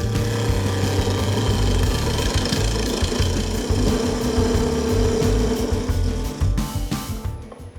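A wood lathe spins while a tenon is turned for a chuck grip, giving a loud continuous motor hum with rough scraping and chattering cutting noise, fading out over the last second or two.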